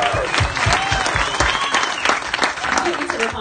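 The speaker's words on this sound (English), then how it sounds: "so big round of applause for him." A room full of people applauds a man who presented a baseball championship ring, with dense, steady clapping throughout and a few voices mixed into the crowd.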